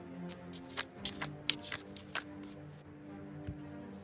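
A deck of tarot cards is shuffled close by, giving quick, irregular riffling flutters and soft slaps over a few seconds, while a faint steady hum runs underneath.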